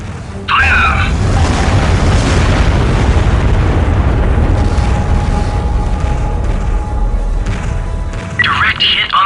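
Torpedo explosion striking a ship in the 2000 space combat game Starlancer, a loud booming, crackling blast rumbling for several seconds, with brief radio-style voice chatter at the start and end.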